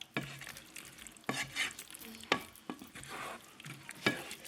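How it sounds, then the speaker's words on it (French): A curry mixture being stirred in a pan, with the spoon scraping and knocking in several distinct strokes over a soft sizzle, fairly close and without talk. "on va venir remuer tout ça"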